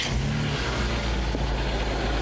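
A BMW Z3 2.8 idles just after starting. The engine holds a steady low hum with a faint rise near the start, moderately close, with no talk over it.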